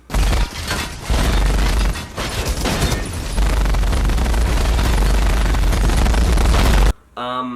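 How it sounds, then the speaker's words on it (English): War Machine's heavy guns blaze in a battle scene from the film Iron Man 2, loud sustained automatic fire with deep booms and rapid bursts, ending as a voice speaks briefly. "I just want you to listen to the sound of War Machine's guns, because it's incredible"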